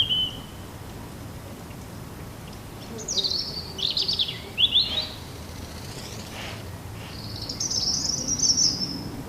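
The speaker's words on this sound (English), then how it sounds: "It surprises me how full the sparrow calls are." Sparrows calling among leaves, a series of bright chirps and short trilled phrases in bursts, moderately near over a low steady background hiss with faint insect-like noise.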